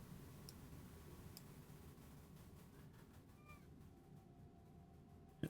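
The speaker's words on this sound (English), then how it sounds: "A lot of cat noises." A cat meows faintly a few times over a quiet, ticking ambient soundscape in the puzzle video game The Room 4, with a sudden louder clatter at the very end.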